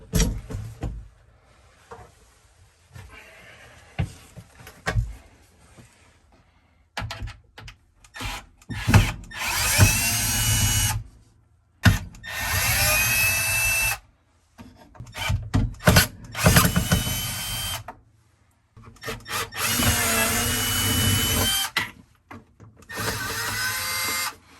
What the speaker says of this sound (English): Okay, so now I need to get these screws out.